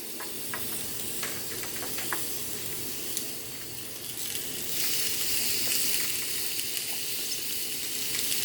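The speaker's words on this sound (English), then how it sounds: "hear a nice sizzle going on there" Steady crackling sizzle of filet mignon frying in a hot griddle pan, close and continuous, with occasional sharp pops and a rising hiss of steam.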